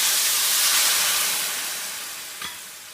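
Marsala wine hits a hot pan of sautéed vegetables for deglazing, bursting into a loud steamy sizzle that gradually fades, with a small clink near the end.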